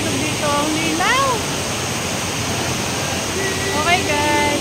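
Clear river water at Bato Spring in San Pablo rushes in a loud, steady broadband wash, with voices talking over the flow at intervals.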